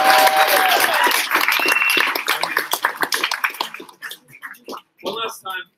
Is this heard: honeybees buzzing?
no